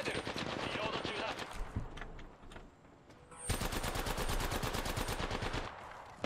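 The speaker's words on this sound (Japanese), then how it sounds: "敵に撃たれてる。" Rapid automatic gunfire from enemies in a video game, sustained fast bursts with a short lull between them, heard alongside players' game chatter.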